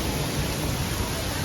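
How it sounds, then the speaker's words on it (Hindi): Heavy rain pouring down at night, a dense, steady hiss of water close by with no break and no other sounds. "अभी जो है ना बहुत तेज़ बारिश हो रही है"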